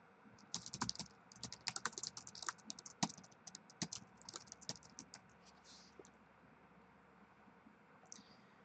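Someone types a name on a computer keyboard, a quick irregular run of close, crisp key clicks that trails off, with a faint click afterwards.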